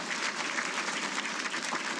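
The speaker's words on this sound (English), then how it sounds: "So let's give them a round of applause." An audience at a Hall of Fame ceremony breaks into dense, sustained applause, a steady wash of many hands clapping at once for the full two seconds.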